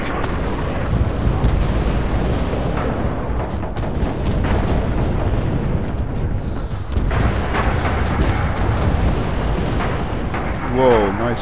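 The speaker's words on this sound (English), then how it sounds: "Incoming artillery." Heavy artillery shells land in Red Orchestra 2 on the Mamayev Kurgan map, loud rumbling booms rolling one after another under continuous battlefield noise. Players speak over the barrage.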